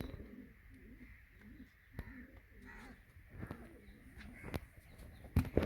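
Pet pigeons coo steadily in soft repeated rounds while being given grain, with occasional sharp taps and shuffling footsteps nearby and a few faint background voices.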